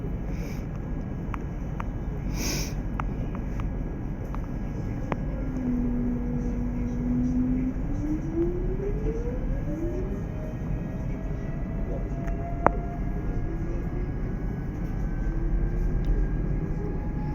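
Electric passenger train of the ES2G Lastochka type departing a station, its motor tone rising steadily in pitch over a constant rumbling drone, close and continuous with faint clicks.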